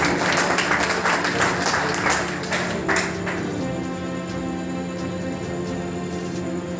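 Audience applause at a Sanskar Bharati cultural society general meeting in Shahganj, Jaunpur, a dense clapping burst that is loudest for the first few seconds, then thins to a softer steady patter.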